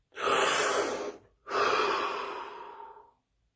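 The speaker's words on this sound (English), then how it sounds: "Deep breath." Two long, deep breaths drawn in through the mouth, each a loud, airy rush lasting about a second and a half, separated by a brief pause, close and alone.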